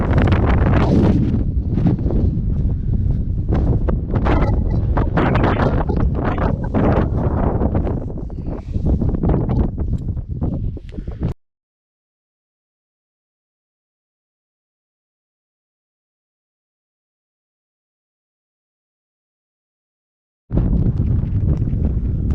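Strong wind on a Lake District mountain ridge near Dale Head, in thick cloud: loud, steady buffeting roar close to the microphone that cuts out abruptly partway through, then returns just as loud near the end.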